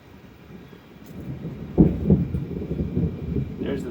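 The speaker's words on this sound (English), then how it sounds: "There's the thunder again." Thunder rumbles in the distance, a low swelling roll that builds from quiet into a couple of heavier thuds and fades off, faint and muffled.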